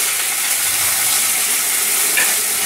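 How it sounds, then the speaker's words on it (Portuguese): A spoonful of butter melting into hot pork fat left in the pan after frying pork steaks, a loud dense sizzle that holds steady with no pauses, no voices. "Com esta gordura vamos colocar uma colher de manteiga."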